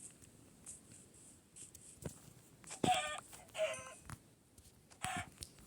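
Video-game chickens cluck in short, scattered bursts, a few clear squawks and clucks rising over a quiet background, each brief and fairly close.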